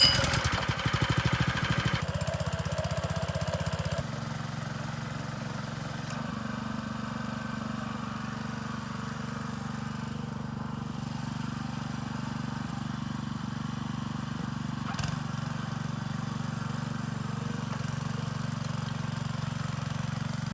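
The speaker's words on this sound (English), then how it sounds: "Tyler put on this new Honda motor, so now it starts really easy and runs great" A garden tiller fitted with a new Honda motor runs steadily for the whole stretch, a close, continuous mid-pitched engine drone with a slightly louder start that settles into an even, unbroken hum.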